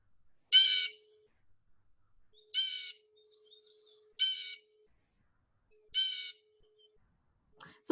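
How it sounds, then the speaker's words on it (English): Four harsh, separate calls of an adult male blue jay ring out alone at steady intervals, loud and close against a quiet background. "I would say that is definitely an adult male blue jay"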